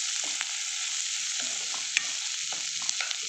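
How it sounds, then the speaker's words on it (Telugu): Onions fry in a pan for guddu karam pulusu, an egg curry, with a continuous close sizzle broken by several scraping stirs and light utensil taps, no voices. "ఇప్పుడు చూసారు కదా ఉల్లిపాయలు ఇలా వేగాయి కదా."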